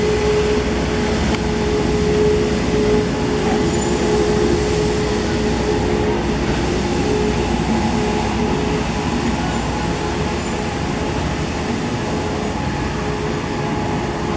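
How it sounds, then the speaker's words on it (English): A street cleaner passes by at night, a loud, steady mechanical rumble and broadband roar that fills the street without pause, with no talking. "The street cleaner is going by,"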